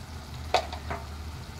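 Tomatoes cook down in a pan for an egg, capsicum and tomato masala curry: a soft, steady sizzle with one sharp scrape of stirring and a fainter second stir, no voices.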